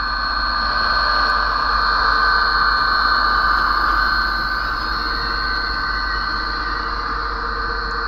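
An HHP-8 model train locomotive's sound effects at notch 8 on a DC layout: a steady, loud synthesized diesel engine drone with a bright hissing tone, unbroken throughout.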